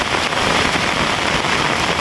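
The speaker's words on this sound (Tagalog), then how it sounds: "Uy, ayan ang ulan, mga tupay." Rain falling at an outdoor fish pond, a steady dense hiss of drops on water and surfaces, loud and close and continuous throughout with no talk.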